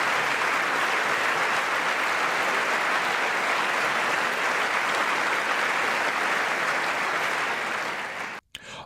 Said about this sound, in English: the Republicans were standing and applauding this accomplishment